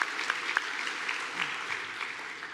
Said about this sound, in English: let's give them our applause and let them know how proud we are of them